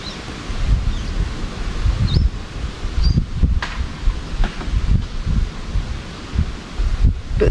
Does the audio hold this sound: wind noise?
yes